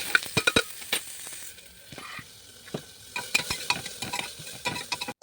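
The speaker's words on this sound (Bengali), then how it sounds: "এখন আমি মরিচ এবং পেঁয়াজ কুচিগুলো দিয়ে নাড়াচাড়া করে নেব।" Chopped onions and chillies sizzle in hot oil with cumin and ginger-garlic paste as a spoon scrapes and stirs the pan, giving repeated close clinks and scrapes over a soft crackling fry, with no talking.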